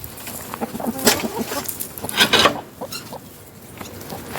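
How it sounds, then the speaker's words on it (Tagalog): Chickens cluck in short bursts nearby, with a couple of louder scratchy outbursts among softer clucks and faint rustling. "mga manok"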